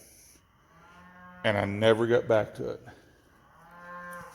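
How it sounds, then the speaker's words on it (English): A cow moos twice in the background, a long low call at the start and another near the end, with someone talking in between. "Yeah, you can hear a cow in the background."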